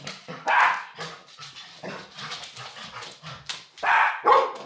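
A golden retriever barks loudly and close by in a burst of sharp barks and yips mixed with whimpers, repeating irregularly.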